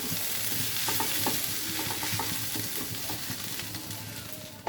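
Shrimp frying with bottle gourd peel, potato, carrot and flat beans in a pan, a steady loud sizzle under repeated scraping stirs of a spatula, close and continuous with no talking.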